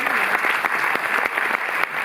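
At a film premiere in a Paris cinema, the audience applauds a producer with close, loud clapping in which individual claps snap sharply through the dense, continuous ovation.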